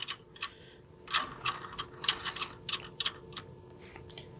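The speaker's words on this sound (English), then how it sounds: "I'm going to spin these hex nuts down" Hex nuts spun down a threaded depth gauge on a drill press give a string of small metallic clicks and rattles, irregular and close, with brief pauses between bursts.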